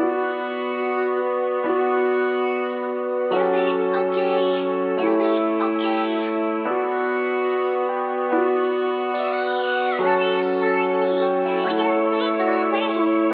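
Three layered synth beat patterns for a UK drill track play together in a steady looping groove, tonal and bright with echo, a loud continuous electronic texture with no voices.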